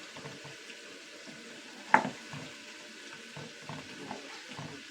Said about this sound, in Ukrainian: кидаю на сковорідку, підсмажу, буде як піджарка